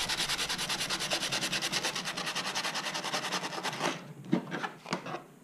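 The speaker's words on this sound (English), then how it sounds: "Cross-hatching this thing everywhere that it's going to attach, okay?" Sandpaper cross-hatching the ride pad surface of a racing hydroplane RC model boat before epoxy, a steady fast back-and-forth rasping rub, close and fairly loud, then a few slower, scattered strokes near the end.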